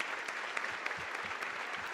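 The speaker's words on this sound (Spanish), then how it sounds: "Fuerte el aplauso." Steady audience applause follows a young tech entrepreneur's story at an event, a dense, even wash of many hands clapping at a constant level with no voices over it.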